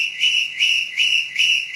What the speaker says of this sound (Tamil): இப்படி எந்த கேள்வி கேட்டாலும் விசில் மட்டும் அடிக்கிறீங்களா?